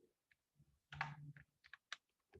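Soft, irregular keystrokes tap on a computer keyboard in a quiet room, with a short burst of several clicks in the middle and sparse single taps around it.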